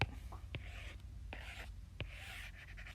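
A pen or pencil writing out a simple algebra expression on paper, with a few short scratchy strokes and taps close by and no voice.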